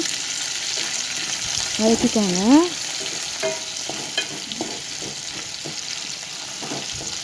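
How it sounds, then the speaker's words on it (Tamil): Tomatoes sizzle quietly in oil while a spoon scrapes and stirs the pan in scattered clinks; a short voice-like rising tone cuts through briefly. "அதை நல்லா எண்ணெயில் வதக்கிக்கோங்க."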